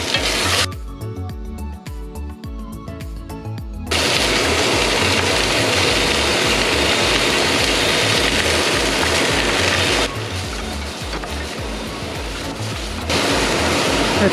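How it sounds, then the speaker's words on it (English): A kitchen exhaust fan roars steadily over a pot of chicken and vegetable soup cooking on the stove, the broad whooshing noise jumping louder partway through and holding at a constant level. "Sorry, the exhaust fan has to go in again, it's gonna be a bit noisy."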